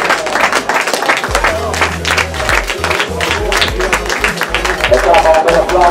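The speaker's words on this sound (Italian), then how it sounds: "Un applauso per questo bel incontro." Spectators applaud at the close of a youth football tournament quarter-final between Sasso Marconi and Junior Finale, loud scattered clapping mixed with crowd chatter and voices throughout.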